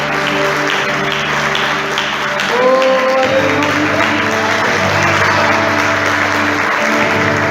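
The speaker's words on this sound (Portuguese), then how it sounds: "pode aplaudir aquele que nos derrama a graça" A large church congregation applauds steadily and loudly throughout, with a voice calling out briefly over the clapping.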